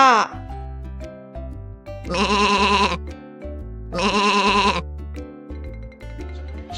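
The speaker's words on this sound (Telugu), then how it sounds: "గోట్ గోట్ పిల్లలు దీని తెలుగులో ఏమంటారు మేక మేక" A goat bleats loudly in two long wavering calls over a simple tinkling children's tune, from a kids' animal-sounds animation.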